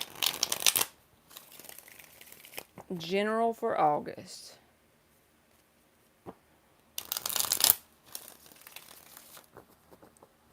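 Tarot cards are shuffled by hand in two short, crisp riffling bursts, one at the start and another near the end, with a voice talking in between.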